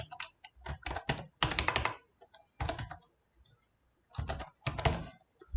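Someone types exam-paper text into MS Word on a computer keyboard, producing clustered runs of sharp, close key taps with brief silent gaps and a few heavier thunks.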